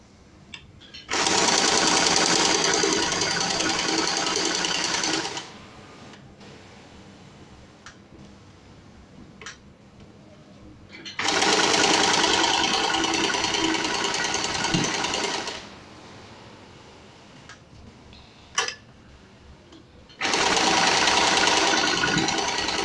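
A sewing machine smocks a dress in three bursts of fast, loud, steady stitching, each lasting a few seconds. Quiet gaps between them hold small clicks and handling noises.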